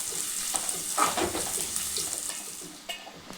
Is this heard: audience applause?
no